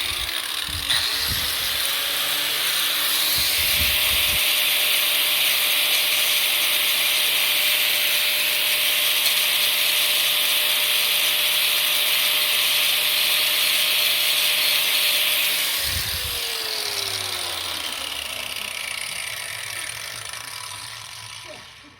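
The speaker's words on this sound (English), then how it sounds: "So then I just take the grinder and touch it up just to clean it area." A grinder cleans up a bent metal plate during a nitrous plate install, giving a steady, close, harsh grinding whine that spins up, holds for about fifteen seconds, then winds down.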